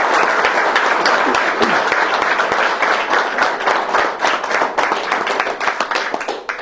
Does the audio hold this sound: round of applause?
yes